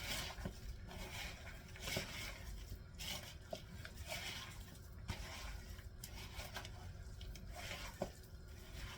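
Meatloaf burger mixture being mixed by hand in a bowl, giving quiet, soft squelching and stirring with light clinks against the dish, faint and close, with no talking.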